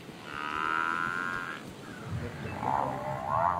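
Lions attack a buffalo cow, her long bellowing moos rising and falling as deep lion growls and grunts rumble close in, several strained calls over a few seconds.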